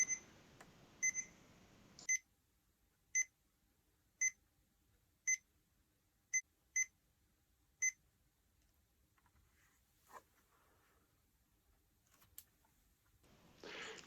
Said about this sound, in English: if I try to turn it off, all I get are these repeating beeps